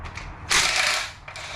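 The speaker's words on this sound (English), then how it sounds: "let's just unbolt this guy here." Ratchet working loose short bolts on a Big block Chevy 454 engine that sat for 20 years, a close, fast metallic ratcheting whir in two bursts, the first longer and louder.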